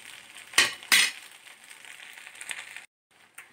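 Rava uttapam sizzling and frying on a pan just after being flipped, with two sharp bursts of hissing followed by a softer steady sizzle that briefly drops out.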